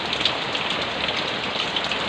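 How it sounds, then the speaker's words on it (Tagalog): Heavy rain falls on a surface, a dense, even hiss of drops close by with no voices. "Sa lakas po ng ulan."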